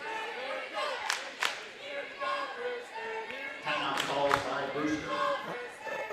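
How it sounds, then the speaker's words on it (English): Crowd at a district basketball game cheering and shouting for the home team, with bursts of yelling and scattered claps over a steady murmur, voices of an announcer talking underneath. "what I'm hearing today is a lot of cheering for your own team"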